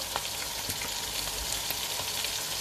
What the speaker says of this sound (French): Et là je vais mettre le poulet dans le casserole.